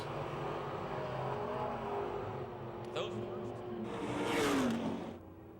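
Dirt Car Sportsman race cars run a seven-lap heat at Pennsylvania Motor Speedway near Pittsburgh, their engines a continuous loud roar with a car surging past near the end, under a track announcer's voice.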